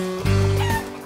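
A chicken gives a short, close, loud cluck, a single throaty burst with no other sounds around it.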